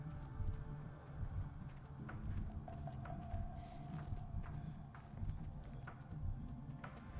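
Hooves clip-clop softly in the video game Ghost of Tsushima, irregular hoofbeats from horses at a moderate distance over a faint ambient wash.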